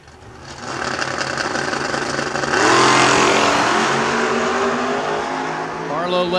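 Drag race cars launching, including a blue Chevrolet Camaro, with loud engines revving and roaring continuously, rising sharply in pitch and intensity partway through as the cars accelerate hard down the strip.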